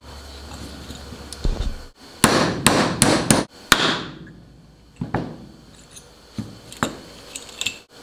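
Hammer and punch striking a hammerlock chain link, a run of sharp metallic blows, several in quick succession and then a few scattered strikes, loud and close with no talk.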